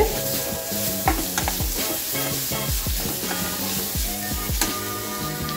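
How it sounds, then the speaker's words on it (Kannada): Ginger garlic paste and onions frying in a pan for a Mangalore-style squid sukka, with a constant sizzle under frequent rhythmic scraping and tapping of a spatula against the metal, close and loud. "ಈ ಪೇಸ್ಟ್ ಸೇರಿಸಿ ಈರುಳ್ಳಿ ಜೊತೆಗೆ ಒಳ್ಳೆ ಫ್ರೈ ಮಾಡುವ"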